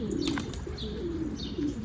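Low, rolling pigeon coos sound close by, mixed with a few higher chirps.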